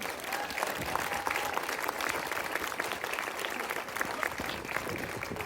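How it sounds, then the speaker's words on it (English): Applause from a crowd gathered outdoors at a 1950s-style heritage town, a continuous, even roar of many hands clapping at moderate distance and fairly quiet level. "a massive round of applause to all of you"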